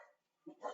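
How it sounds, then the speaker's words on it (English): A dog whines at a door in a short, faint burst of whimpering after a moment of quiet, heard from a little distance in a room during a lecture. "my dog is whining at the door now"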